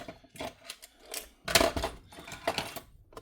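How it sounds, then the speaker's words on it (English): Scissors cutting open the plastic blister packaging of a 1/64 scale Greenlight diecast Chevrolet with a dump trailer, heard as close, irregular snips, clicks and crinkles in short bursts. "I think I'm going to use scissors for it."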